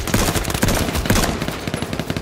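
Rapid bursts of automatic gunfire in the H1Z1 battle royale game, a dense run of close, loud shots firing steadily for about two seconds with no talk over it.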